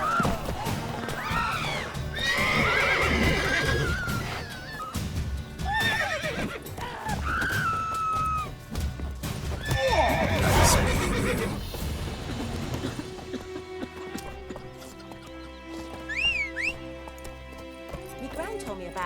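In The Witcher 3: Wild Hunt, horses whinny and neigh amid busy, layered game noise with hoofbeats and shouting voices, then things settle into quieter background sound with a few high calls.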